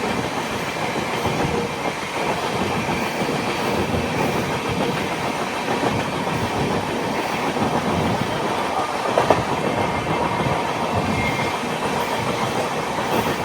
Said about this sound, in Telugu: మన ట్రైన్ క్రూజింగ్ స్పీడ్ తగ్గిపోయింది.